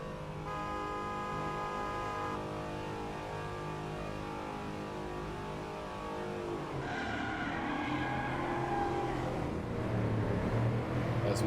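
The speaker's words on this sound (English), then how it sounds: "they're off to turn one in race two. Getting a little bit cramped there." Spec P71 race cars at a race start in a sim racing game, a dense pack of engines droning steadily, with a tonal hum that shifts into louder revving and rising engine whine partway through.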